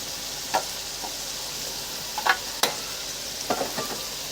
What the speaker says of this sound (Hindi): मसालों को फ्राई कर लेंगे।